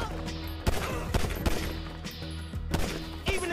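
Gunfire during a mission in the video game GTA 5: a steady barrage of repeated shots with sharp, loud cracks landing roughly every half to one second over continuous battle noise.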